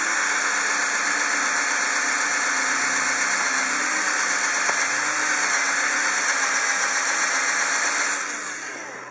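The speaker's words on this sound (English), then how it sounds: "Drill the side down there, and it will create a little bit of a mess here." A power drill bores into the side of a plastic Xbox One console shell, a loud, steady high-pitched whine running continuously before fading out at the end, with no talk over it.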